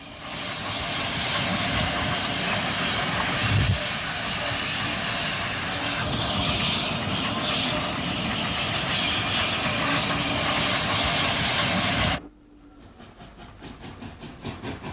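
A GNR SG2 class 0-6-0 steam engine, number 40, hauls a goods train from Portadown to Belfast near Kilmore Box, a loud continuous roar and rumble that cuts off abruptly near the end, leaving a quieter pulsing tail.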